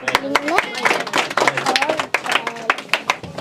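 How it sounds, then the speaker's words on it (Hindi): A classroom of children claps in short irregular bursts after a correct answer, sharp scattered hand claps mixed with voices talking over them, moderately close. "ताली बजाइए।"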